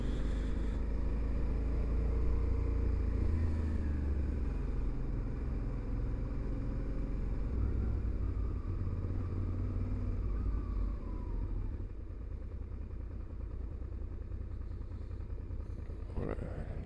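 Motorcycle engine heard from the rider's seat while cruising near Capbreton, a steady low rumble with wind noise throughout, close and continuous, with no clear talk.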